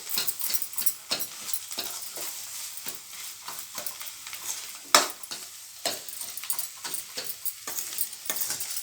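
Gongura chutney being mixed with salt and chilli powder makes a steady run of soft, rhythmic stirring and scraping taps in a bowl, quiet and close, with no talk.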